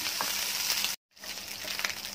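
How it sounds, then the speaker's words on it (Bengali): Cooked rice frying in a frying pan for fried rice, a loud, steady close-up sizzle broken by a brief cut to silence before it resumes, with no talking. "ভেজে নিচ্ছি ভাতটা, খুব ভালো করে ভাজতে হবে"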